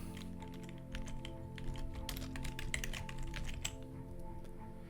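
Rapid, steady keystrokes on a computer keyboard as a server display name is entered in CaseGuard software, close and moderately quiet over a constant electrical hum.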